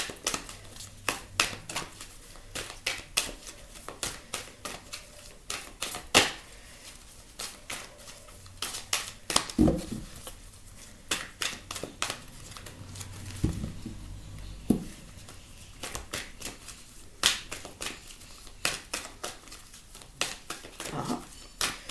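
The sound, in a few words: tarot cards being shuffled and drawn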